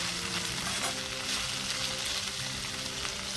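Dried okra (bhindi) pieces stir-fry in a pan with a continuous soft sizzle and an even crackling hiss, faint and steady, no voices.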